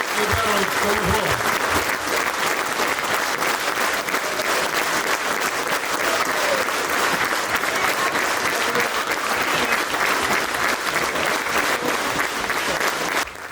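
Dense, steady applause from a large audience at a Norwegian event in Jølster, greeting a prize winner; loud and continuous throughout, with a few indistinct voices mixed in early on.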